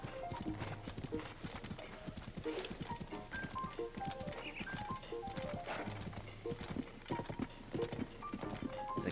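Horse hooves clip-clop steadily while riding in Zelda: Tears of the Kingdom, with a rapid, even rhythm running throughout over game music and an occasional whinny.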